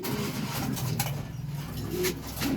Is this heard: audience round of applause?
no